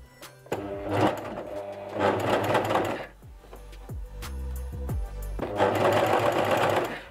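Bursts of rapid mechanical stitching from a sewing machine, three runs of fast chattering with a pause between them filled by clicks and low motor tones.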